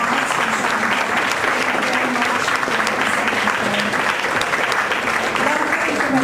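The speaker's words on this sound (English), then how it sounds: "I'd like a big hand of applause" A tech meetup audience applauds steadily after a CRM software presentation, a dense, even wash of many hands clapping at full strength throughout, with a few voices mixed in.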